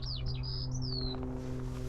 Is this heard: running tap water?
no